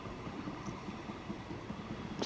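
A train in the video game Transport Fever 2 rolls along with a steady low rumble and faint rhythmic clatter, fairly quiet and unbroken by voices.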